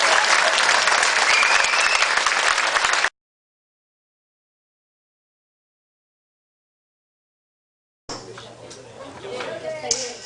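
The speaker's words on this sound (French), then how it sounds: "Je crois qu'on peut te faire un tonnerre d'applaudissements." A cabaret audience claps in a dense, loud burst of applause. After a silent gap, quieter clapping and crowd noise return, with voices in the room.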